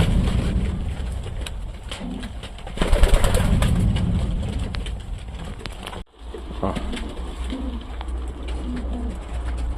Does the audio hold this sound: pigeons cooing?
yes